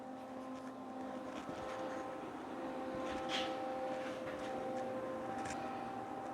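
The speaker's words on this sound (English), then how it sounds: "I'm gonna stand the mower deck up with the loader" A tractor loader runs steadily close by while it raises a mower deck, a continuous engine drone with a faint hydraulic whine over it and no talking.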